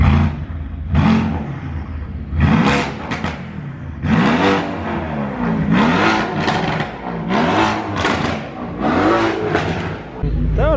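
Car engines rev repeatedly at a Warsaw motoring season-opening meet, loud rising and falling surges coming in bursts with people talking over them.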